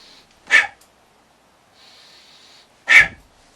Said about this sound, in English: Rapidly inhale and rapidly exhale when performing a technique.